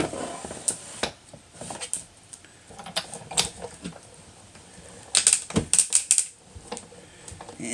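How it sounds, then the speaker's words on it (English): Paper crackles as it is embossed between a rubber mat and a hard mat in a Big Shot die-cutting machine: scattered small clicks and crisp snaps, with a denser close-up burst of crackling near the end. "I hear a little crackling."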